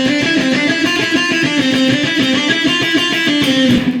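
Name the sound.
electric guitar playing a lick variation up the scale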